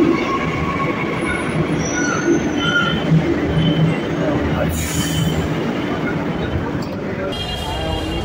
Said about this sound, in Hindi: अब मेट्रो का वेट कर रहे हैं, देखते हैं कब तक मेट्रो आती है